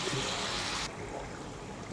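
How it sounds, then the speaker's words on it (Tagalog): A small amount of water poured into a cooking pot with capsicum, a short broadband trickle lasting just under a second, fairly near and moderately loud, then fading to quiet room noise. "Lagyan natin ng konting tubig."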